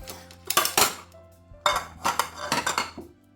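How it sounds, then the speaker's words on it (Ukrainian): A tin can of preserved food from a store is opened with metallic clicks, clinks and scraping in two or three close bursts, with no voices. "давайте відкриваємо наступну консерву"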